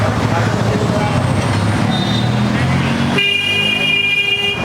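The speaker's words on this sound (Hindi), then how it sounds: "ये हॉर्न हमारे काम नहीं कर रहे हैं, मतलब हवा बहुत हल्की आ रही है" A weak Bajaj Dominar 400 motorcycle horn honks faintly in the last second or so, sustained thin tones over constant loud street and engine noise.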